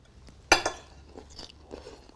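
Someone biting into and chewing a crunchy vegetable up close, one sharp crunch followed by a few softer chewing crunches in a quiet room.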